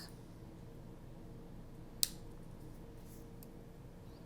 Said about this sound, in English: Trim off the back.